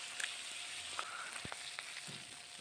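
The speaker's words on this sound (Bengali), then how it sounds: "তারপরে আমি মাছগুলো হালকা করে ভেজে নেব।" Fish pieces fry in hot oil in a wok, a steady broadband sizzle running throughout with a few soft clicks and taps of turning, close and moderately quiet, no talking.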